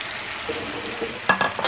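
Finely chopped tomatoes go into chicken karahi frying over a medium flame, bringing a steady close sizzle and then a burst of louder crackling and spatter near the end.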